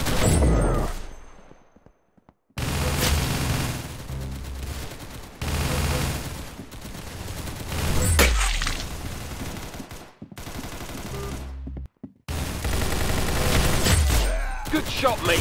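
Gunfire in the Roblox game Arsenal comes in loud, dense bursts of rapid shots with short silent gaps between volleys, close and punchy throughout.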